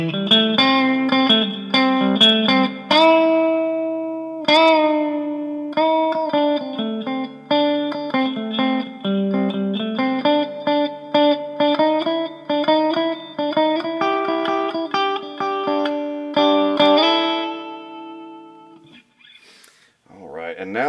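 A 1989 G&L S500 electric guitar with all three pickups engaged plays a clean, melodic passage of picked notes and chords with light effects, close and alone, ending in a short pause and a fresh strum.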